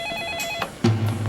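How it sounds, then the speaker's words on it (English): A telephone rings in the evening, its bell tones repeating in quick bursts at moderate volume, before a low voice-like hum enters. "the phone rang."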